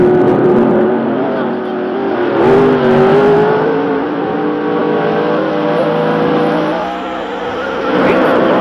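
A car engine revs in a racing video game, holding a steady droning tone that climbs in pitch partway through and then levels off, running continuously and fairly loud throughout.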